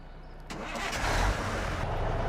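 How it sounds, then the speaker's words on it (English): Truck engine from a modded Farming Simulator 15, starting up and settling into a steady mid-pitched rumble that builds slightly in loudness over a couple of seconds, heard alone without talk. "better engine note, I'll say that much"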